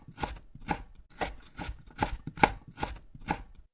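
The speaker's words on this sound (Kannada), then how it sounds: "ನೆಕ್ಸ್ಟು ತರಕಾರಿ ಪಲ್ಯ ಮಾಡೋಕ್ಕೆ ಅಂತ ಸ್ವಲ್ಪ ಬೀನ್ಸು ಮತ್ತು ಒಂದು ಕ್ಯಾರೆಟ್ ಹೆಚ್ಚಿಕೊಟ್ಟೆ." A knife chops beans and a carrot on a board for a vegetable dish, about eight crisp, evenly spaced cuts, close and clear with no talking.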